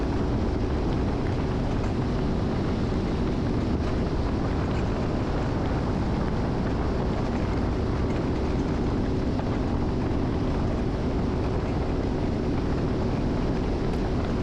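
A classic Great Lakes freighter idles near the Soo Locks, giving a steady, loud low engine rumble with wind buffeting the microphone throughout, and no voices.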